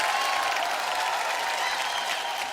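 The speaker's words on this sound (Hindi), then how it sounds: "मैं चाहता हूं कि इस विचार के लिए आप सबको ताली बजाना चाहिए।" A studio audience at the finale of a televised rural talent show applauds in a dense, steady wash of clapping that stays loud and even throughout, with some faint crowd noise.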